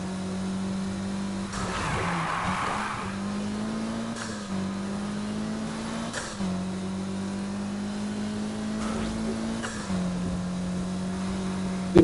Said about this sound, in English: You can ever so slightly hear the turbos.